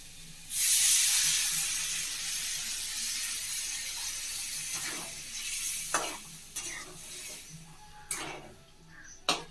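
Water poured into a hot pan of chana dal bursts into a loud, hissing sizzle that slowly fades, followed by a few softer stirring scrapes and sizzles, with no voices.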